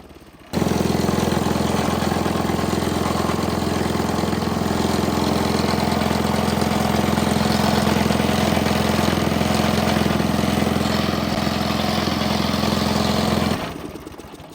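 A small gas engine on a wood splitter runs at a steady idle, a loud continuous drone with a deep low hum that holds evenly from start to finish and then stops.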